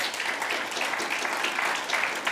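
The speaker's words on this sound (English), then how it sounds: "Let's give them another round of applause." A church congregation gives the band a round of applause, a dense, steady wash of many hands clapping throughout at moderate level.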